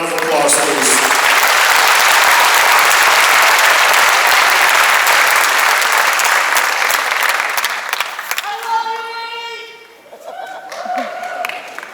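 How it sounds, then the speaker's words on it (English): Audience at a memorial service at Forest Lawn in Los Angeles breaks into loud, sustained applause that slowly fades, followed by a voice speaking over a microphone. "Give him a round of applause, please."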